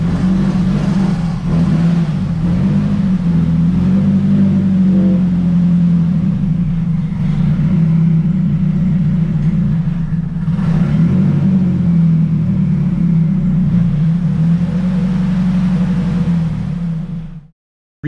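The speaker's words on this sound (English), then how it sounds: "I have to get used to the straight pipe because I thought I was gassing it when really the car was just really loud" A Nissan S14 with a straight-pipe exhaust drones loudly and close, its low, raspy engine note holding steady with slight rises and dips under throttle before cutting off abruptly at the end.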